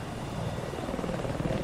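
Aircraft in the video game Battlefield 4, a steady droning rotor-like engine roar holding at a constant level throughout, with no talk over it.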